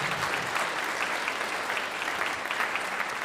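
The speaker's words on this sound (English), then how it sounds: "can we give them one more round of applause?" An audience claps loudly in sustained, dense applause for band directors at a school band gathering. The clapping is steady and unbroken throughout, with crowd noise blended in.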